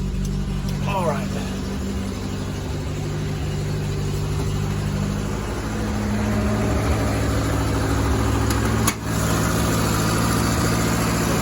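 A Toyota Tercel with the 62-horsepower 3A-C engine idles steadily after a cold start, a loud, close, even hum that continues throughout.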